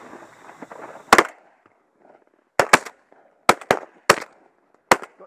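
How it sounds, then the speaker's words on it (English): A Beretta A400 Xtreme Plus shotgun fires at ducks outdoors, with sharp loud blasts that come singly and in quick doubles, about seven in all, and faint rustling and low voices before the first shot. "Oh, the gun's working well."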